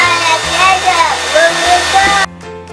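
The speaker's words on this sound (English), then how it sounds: "we have to dry it with a hair dryer" A loud hair dryer blows with a constant whooshing roar, drying a scruffy plush pet toy, then cuts off abruptly near the end, leaving a quieter hum.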